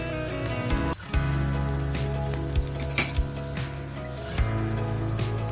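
Appe batter made from leftover rice sizzles steadily in oil in a lidded appe pan, with a few soft metallic clinks of the lid and utensils over the continuous crackle.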